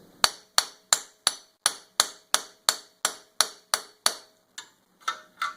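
Hammer blows driving a CV axle into place on a Mitsubishi Outlander, about fifteen sharp metallic strikes at a steady rhythm, close and loud, slowing near the end.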